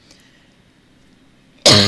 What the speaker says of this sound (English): would you believe I'm not coughing as bad as I was?